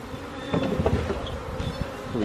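A honeybee swarm drones in a backyard, a dense close buzzing of many insects with individual bees zipping past, steady and unbroken.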